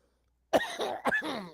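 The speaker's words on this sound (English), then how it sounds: "I started coughing." A quick burst of harsh coughs, three or four sharp hacks in a row, close up and fairly loud, with a throaty rasp.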